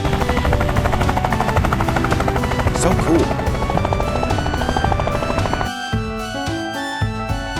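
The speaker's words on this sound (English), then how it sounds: "Look, there's a yellow helicopter here." A yellow toy helicopter whirs with a rapid buzzing rotor chop over tinkly music, then the tune continues as a voice briefly speaks.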